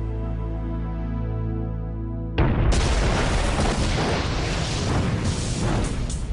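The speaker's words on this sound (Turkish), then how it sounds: "Birdenbire bir patlama oldu." A sudden loud explosion blows open the cargo door of an airliner and cuts off a sustained musical tone, then a dense, rumbling roar of blast and debris continues steadily.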